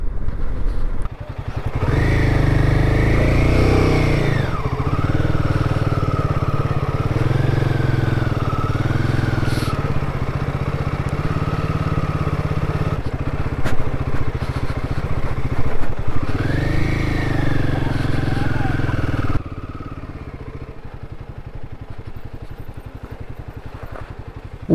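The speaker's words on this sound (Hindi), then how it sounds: "बाइक जो है चौथे या 5वें गियर में चल रही है" A motorcycle runs in fourth or fifth gear on a rough mountain road in Nepal. The engine hums loud and steady, with the pitch rising and falling as the throttle changes and loose parts clattering. It quietens toward the end.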